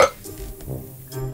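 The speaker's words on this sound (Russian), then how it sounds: "Ты рыгнул, да?" A short, low throaty burp from a man, heard close up with a faint clink of glass or dishes nearby, the guttural rumble stretching briefly across the moment.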